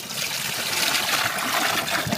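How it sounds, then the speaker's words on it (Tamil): Tamarind water poured into a cooking pot for a village-style fish curry, a steady broadband splashing trickle lasting about two seconds, close and continuous with no voices. "புளி தண்ணி"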